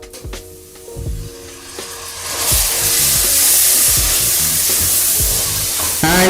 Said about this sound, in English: fry these tomatoes till it becomes soft and mushy